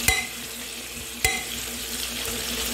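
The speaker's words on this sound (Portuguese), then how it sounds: "Aí a carne tá aqui, ó, dando aquela fritada." Steady sizzling and crackling of meat frying in a pan, with two sharp clanks of a utensil against the pan.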